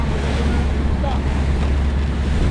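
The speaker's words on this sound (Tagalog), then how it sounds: "Pero malakas na hangin oh" Strong wind roars steadily across the microphone aboard a boat travelling from Mindoro to Navotas, a dense, unbroken low rumble with no clear pauses.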